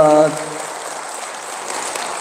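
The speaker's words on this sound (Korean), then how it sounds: "우리 다 같이 박수하겠습니다." Audience at a hotel event breaks into broad, steady applause that carries on evenly, following a brief spoken voice at the very start.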